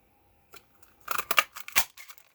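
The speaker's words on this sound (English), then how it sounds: "Okay, so we'll cut it out, punch it out here." A handheld craft punch stamping a shape out of card stock for a whale pop-up card, giving a short cluster of crisp snapping clicks and crunches up close, with no talk.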